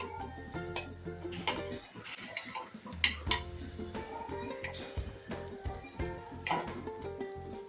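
Ponganalu cook in oil in a pan as a light sizzle runs underneath, broken by frequent clinks and taps of a utensil against the pan.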